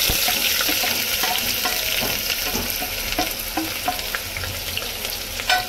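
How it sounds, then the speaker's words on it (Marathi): Finely chopped onion fries in hot oil with whole spices for goat trotter soup, a steady close sizzle with occasional clinks and stirring scrapes, no talking. "आता ह्याच्यामध्ये टाकायचा आपल्याला बारीक चिरलेला कांदा"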